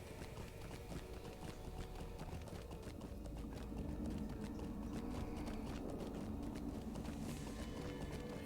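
Horse hooves clip-clop in the Lord of the Rings Online video game, a quiet, steady run of rapid hoofbeats under faint background music.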